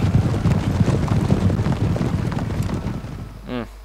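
Horse hooves gallop in a rapid, dense clatter during a battle in Napoleon: Total War, loud at first and then easing off, with a brief voice near the end.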